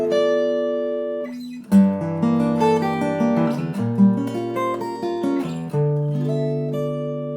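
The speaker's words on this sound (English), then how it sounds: "You can start with a minor 7 flat 5 chord and it sounds like this." A single minor 7 flat 5 guitar chord rings out, then is strummed and picked again with notes sustaining and overlapping, clear and close with no talking.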